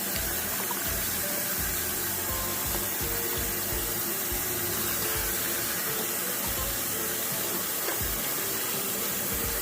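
Leaves are rinsed in a basket under a running kitchen tap, giving a steady, close, broad rush of water that splashes and shifts throughout without pause.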